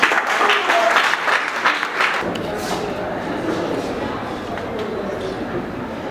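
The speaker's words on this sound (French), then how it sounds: "sous vos applaudissements" Wedding guests at a civil marriage ceremony break into loud, dense applause that fades after a couple of seconds into quieter room murmur and light shuffling.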